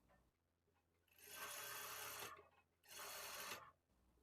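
A sewing machine stitches a lining blouse in two steady runs of close, whirring mechanical chatter, each over a second long, with a quiet pause between them.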